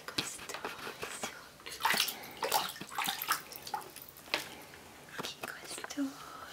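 A small child splashes and slaps bathwater in a bathtub, making irregular bursts of sloshing and smacking sounds close by, while an adult talks softly and encouragingly over the play.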